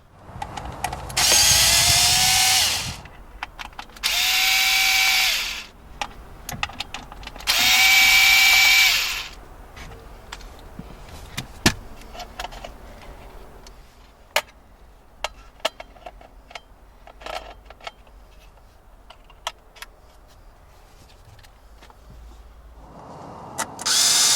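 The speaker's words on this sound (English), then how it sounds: "remove and replace this sync or APIM module by removing these three Phillips head screws" A power screwdriver backs out three Phillips head screws from the SYNC APIM module of a 2016 Ford Mustang: three loud, steady whirring bursts of a few seconds each, followed by quieter clicks and handling taps.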